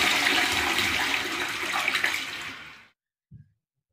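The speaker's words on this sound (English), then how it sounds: "Maybe if I flush you, it'll work." A toilet flushes in a game parody battle: a loud rushing water swirl lasting nearly three seconds, then cutting off abruptly, followed by a brief low gurgle.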